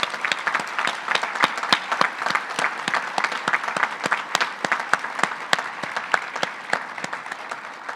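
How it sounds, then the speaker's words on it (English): A conference audience applauds standing soldiers and airmen, sustained clapping from many hands filling the hall at a steady loud level for several seconds, with no talking. "Let's give them a round of applause."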